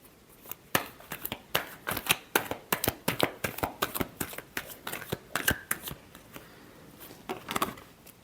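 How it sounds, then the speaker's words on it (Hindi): Tarot cards are shuffled close up in a steady run of quick riffling, flicking bursts, one after another, crisp and fairly quiet, with no talking over them. "Last shuffle."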